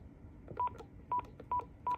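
Four short, clear keypad beeps from a Panasonic KX-TG1062 cordless phone, evenly spaced over about two seconds, heard close with faint background hiss.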